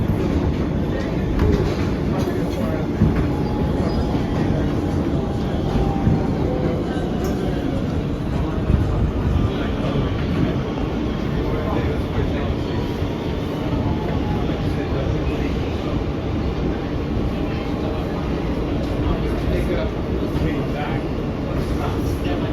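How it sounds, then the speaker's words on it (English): An NYC Subway R160B Siemens E train runs along the track, a loud steady rumble with rhythmic wheel clatter and occasional squeal, heard from inside the car under onboard announcements. "This is a 2nd Avenue bound E train via the S line."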